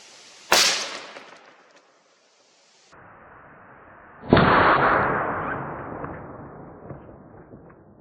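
A 22-250 rifle fires a Hornady Varmint 50 grain VMAX round into ballistic gel: a single sharp, loud report opens, with a steady hiss running behind it, and a second loud boom-like blast rings out partway through and fades slowly.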